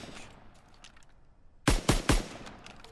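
Three sharp, loud shots from an M1 carbine on a firing range in Call of Duty WWII ring out in quick succession after a quiet stretch of low ambience.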